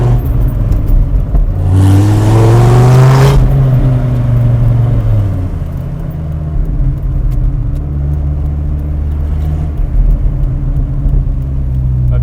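A Dodge Viper SRT-10 V10 engine rumbles low and loud, rising in a short rev before settling back to a steady, throbbing idle-like drone.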